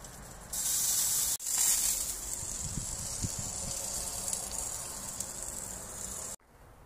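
Chili searing directly over the firebox of an offset smoker, a steady loud hiss of sizzling and steam broken by one brief drop, with faint crackles underneath and no voices.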